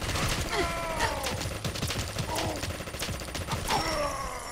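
A PPSh-41 submachine gun in Fallout 4 fires in rapid bursts of automatic gunfire, with short pauses between rattling strings of shots and metallic mechanism clicks.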